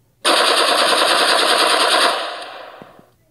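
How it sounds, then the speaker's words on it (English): A rifle fires a long continuous automatic burst in a Fortnite-style shooter, loud and close for about two seconds before fading out. "Rifle! Shoot him."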